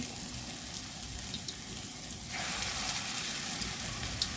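Lentil and onion fritters (piyaju) made with red lentils frying in oil, a continuous bubbling sizzle that swells louder and brighter halfway through, as if fresh batter hit the oil.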